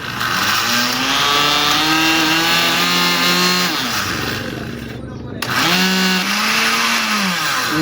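An Osterizer blender whirs loudly up close, its motor pitch sliding up and down, then cuts out briefly before starting again, with voices talking in the background.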